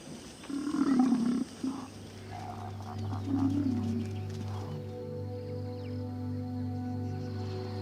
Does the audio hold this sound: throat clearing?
no